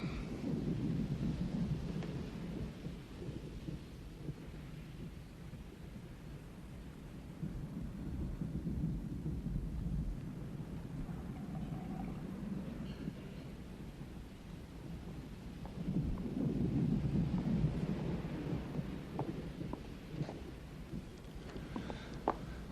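Heavy rain pours steadily with a deep rumbling undertone, intensifying toward the end, with no voices.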